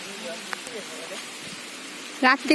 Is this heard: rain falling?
yes